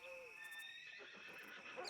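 A horse in the Red Dead Redemption 2 video game lets out a single high whinny that trails off, followed by faint game ambience and soft clopping.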